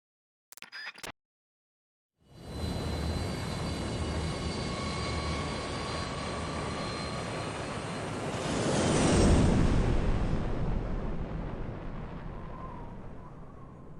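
Roaring engine drone of a damaged airplane in Metal Gear Solid 3, holed and with a banged-up wing, a loud steady rush after a short blip that swells louder near the end.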